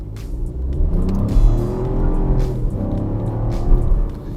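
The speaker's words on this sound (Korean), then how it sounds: "이 가속력을 테스트 해 볼게요" A Chevrolet Trax small SUV engine revs up hard from a standing start, its pitch climbing steadily as the vehicle accelerates, loud and close with a rumbling low end.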